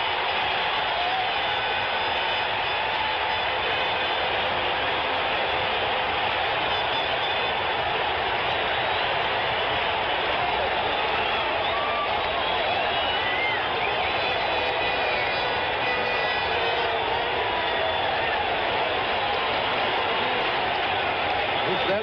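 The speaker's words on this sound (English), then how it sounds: "the crowd on its feet roaring here in the Oakland Coliseum" Stadium crowd roaring at the Oakland Coliseum during a 1973 World Series baseball game, a dense sustained roar with no breaks, heard through a narrow, old broadcast sound.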